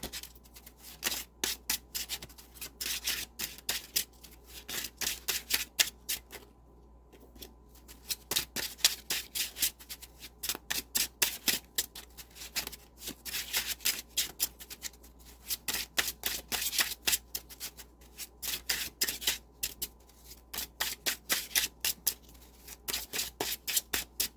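A deck of tarot cards is shuffled over and over, with brisk riffling bursts and short pauses between them. The sound is close and clear, and no one speaks.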